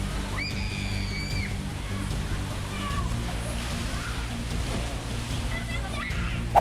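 Steady roar of rough North Sea waves and surf with sloshing water, under constant wind and a low engine-like drone, with brief faint tones in the background.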